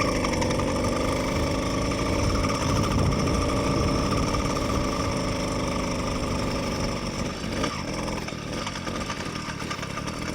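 A motorized bicycle's small two-stroke engine running on a winter cross-country ride, a loud, steady buzzing rattle with rapid firing pulses that holds constant and eases slightly near the end.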